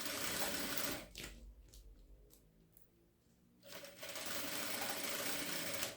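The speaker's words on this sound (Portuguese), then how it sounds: "Naquela região onde a costura está sendo feita, você vai se certificando de que o plástico não saiu do lugar" A sewing machine stitches a plastic lunchbox, with a fast, close mechanical chatter that runs at first, slows and quiets to a faint patter in the middle, then picks back up to full speed.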